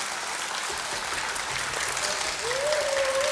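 An audience at a children's composition recital in a performing arts hall applauds a performer, steady dense clapping over a few seconds, with a faint tone rising in the background near the end.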